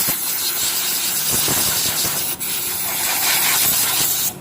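Cleaner sprayed onto a starter motor during repair of a rough, grinding starter, heard as a steady close hiss lasting several seconds with a brief break midway, no talk over it.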